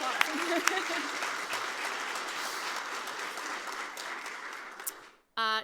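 An audience applauds steadily at a food entrepreneurship conference, a dense sustained clapping that fades out, followed by a brief burst of a voice at the end.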